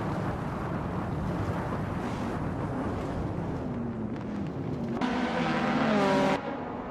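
A 1966 Lotus Cortina Mark 1 races at Donington Park in a video game: a windy, rumbling engine drone that swells into a brief, louder, higher revving near the end.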